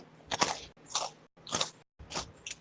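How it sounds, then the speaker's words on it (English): Crunchy fries are bitten and chewed close to the mic in four distinct crisp, crackling bursts separated by short quiet gaps, with no talking. "Do you hear how crunchy these fucking fries are?"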